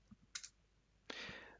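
Computer keyboard keys clack a few times, faint and close, then one longer louder press as enter is struck.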